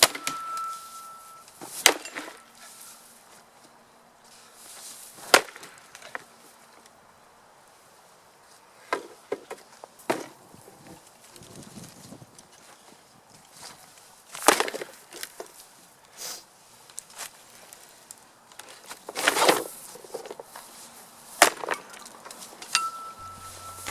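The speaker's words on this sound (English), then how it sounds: "the shield is getting so battered and destroyed that it's essentially just splintering and splitting apart" A Dane axe strikes a Viking age wooden shield again and again, each blow a sharp, loud crack of splintering wood, irregularly spaced with quieter rattling between hits.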